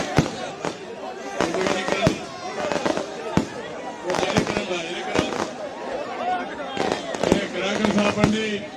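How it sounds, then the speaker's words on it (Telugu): Firecrackers burst at a TDP political rally in Vetlapalem, with repeated sharp cracks and pops going off irregularly over dense crowd noise and overlapping voices. "క్రాకర్స్ ఆపండి"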